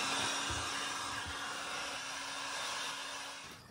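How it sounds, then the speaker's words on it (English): A leaf blower converted into a vacuum cleaner runs steadily, a loud, close, continuous motor whine and airy rush with a fixed hum that drops off right at the end, no voices. "So let's go grab our handy dandy vacuum slash blower."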